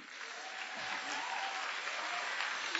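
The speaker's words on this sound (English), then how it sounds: "Please applaud yourselves" Audience applause at a governor's announcement event, a dense, steady wash of clapping from a large crowd lasting throughout without pause.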